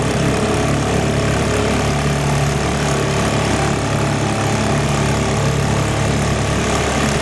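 A 1941 Champion antique outboard motor runs steadily at a boat launch ramp, its loud, buzzing drone holding an even pace throughout with no pauses.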